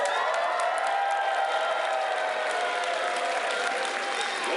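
A live audience at a voice-acting show applauds steadily with some cheering mixed in, a dense, even wash of clapping that holds throughout.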